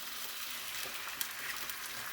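Six eggs frying in a hot pan give a steady, close crackling sizzle throughout, with a few sharper pops along the way and no voices.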